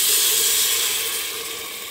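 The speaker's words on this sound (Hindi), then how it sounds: "1 बड़ा कटोरा से 1 कटोरा पानी डाल देंगे।" A bowl of water poured into a hot pan of chickpea curry sets off a loud, steady hiss of steam and sizzle that slowly eases over about two seconds.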